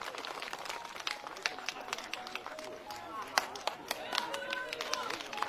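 Scattered applause from a crowd at an outdoor New Year charity gathering, uneven claps rising and falling over several seconds amid background chatter and voices.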